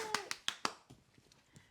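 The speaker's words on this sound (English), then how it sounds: "Round of applause." Four quick hand claps in a row, close and crisp, followed by fainter scattered taps and soft rustling.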